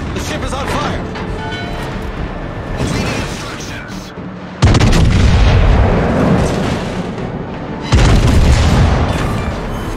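Naval artillery in World of Warships: heavy, deep booms break in abruptly, one near the midpoint and another late, each followed by a sustained rumbling roar, over steady battle noise and intermittent voice announcements.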